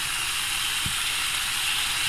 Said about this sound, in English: We sizzling today.